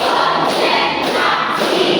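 Students in a Qur'an Hadith classroom clap together through a chant, with a steady, loud mass of hand claps and faint regular accents about every half second, close and filling the room.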